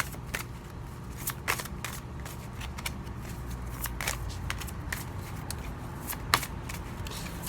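Tarot cards are handled and drawn close by: quiet, scattered crisp clicks and slaps of card stock with soft shuffling rustles between them, a few sharper snaps standing out, over a faint background hum.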